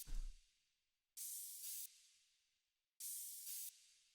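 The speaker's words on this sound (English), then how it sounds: "The next and final layer that we have here is the cymbals" Chopped cymbal samples for an industrial techno track: a low thump fading out, then two bright, hissy noise bursts, each cut off abruptly after about three-quarters of a second, separated by silence.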